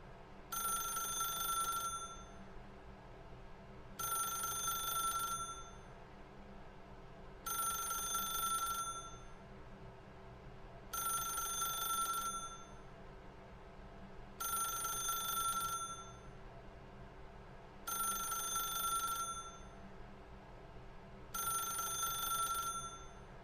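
A telephone rings in a video game, coming in seven regular bursts of about two seconds each with short gaps between them, steady over a low background hum, with no talking.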